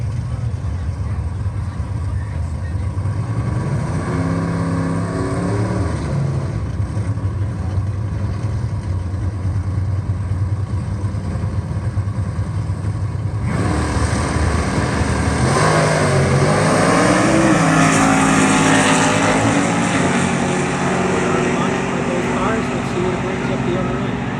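Muscle cars drag racing at a Muscle Palooza show in the 10-second class, engines roaring and revving at a distance through a steady rumble, with a louder surge midway and people talking over it.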